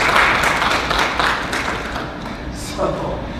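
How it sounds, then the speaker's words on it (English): Audience applause at a drug education event marking the UNODC Day Against Drugs, a broad wash of clapping that stays steady and fairly loud for a few seconds, then thins slightly near the end. "so I want to give all round of applause."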